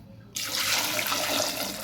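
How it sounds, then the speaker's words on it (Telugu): Water pours steadily into a small cooker holding eggs, being boiled for a dried prawn, drumstick and egg curry; a brief quiet gives way to a continuous, close rushing splash that runs to the end. "ఎగ్స్ని ఒక చిన్న కుక్కర్లో వేసుకొని ఎగ్స్ మునిగేంత వరకు వాటర్ అయితే పోసుకోవాలి."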